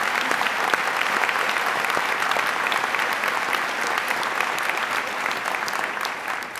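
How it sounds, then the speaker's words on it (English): A large crowd at a university presidential inauguration at Buffalo State gives a dense, loud, sustained round of applause that stays even throughout with no talking over it. "Can we give them another round of applause?"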